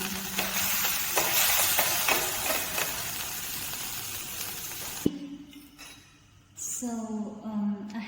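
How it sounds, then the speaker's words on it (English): Cashew nut pieces frying in butter in a pot give a steady broadband sizzle with occasional stirring clicks, then quiet down before a voice speaks near the end. "So I have fried the cashew nuts"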